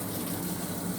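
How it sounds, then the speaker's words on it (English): A steady rush of hot water pours in through the inlet valve of a top-load washing machine, model WT6105, a continuous close gushing fill with no talk. "This is our hot water valve."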